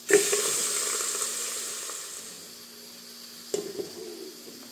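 Chopped vegetables, mixed with salt, tipped into a hot pressure cooker in a farm kitchen, bursting into a loud hiss and sizzle that slowly fades, with a brief clatter and renewed sizzle near the end.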